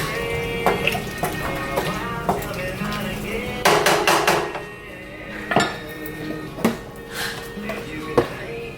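A spoon mixes ramen broth ingredients in a metal pot, with repeated sharp clanks and scraping knocks against the sides, close and uneven, and someone talking between the strikes.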